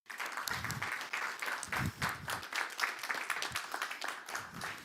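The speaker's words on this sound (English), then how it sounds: "So, a big applause for Pär-Olof." Audience at a company investor day clapping, a moderate, uneven patter of individual hand claps with some irregular bursts, fairly close.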